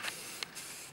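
Aerosol spray paint going onto an Iron Man Mark 38 Igor helmet in short hissing bursts: a brief spray near the start, a quick puff midway, then a longer steady hiss, close and moderately loud with no talk.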